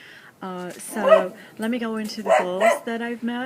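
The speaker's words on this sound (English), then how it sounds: "sorry for the dog and the hummingbirds and all the other extra background noise" A dog barks and yips in the background of a home recording in several short, sharp bursts. A person speaks steadily over the barking.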